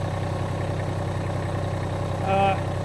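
A Massey Ferguson GC1710 compact tractor engine runs steadily at about 2,300 RPM, a continuous low drone with a brief louder swell near the end.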